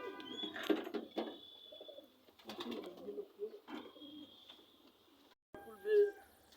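Pigeons in a small home pigeon loft, soft low cooing calls repeating in bursts, close but quiet, with a couple of brief chirps and rustles between them.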